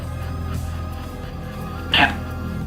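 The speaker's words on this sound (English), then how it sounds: "That's a dog." A dog indoors in a house gives a single short bark or yip near the end, brief and moderately loud above a steady low background hum.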